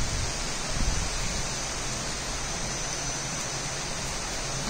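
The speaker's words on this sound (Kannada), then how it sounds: "ತುಮಕೂರಲ್ಲಿ ಇವತ್ತು ಒಳ್ಳೆ ಮಳೆ ಆಗ್ತಿದೆ" Heavy rain falling in Tumakuru gives a steady, dense broadband wash that stays even and fairly loud throughout, with no voices.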